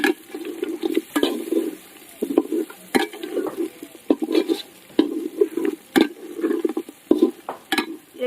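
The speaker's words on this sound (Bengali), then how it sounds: "দিয়ে এবার ভালো করে আর একটু নেড়ে নেব।" Chicken pulao with fried onions stirred in a pot, a steady run of close scraping, sloshing strokes in an uneven rhythm over a low sizzle.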